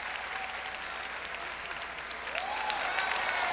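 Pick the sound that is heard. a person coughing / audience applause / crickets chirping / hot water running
audience applause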